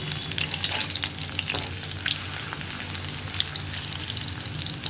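Potatoes frying in oil until reddish, a dense, even close-up sizzle with light stirring scrapes throughout and no voices.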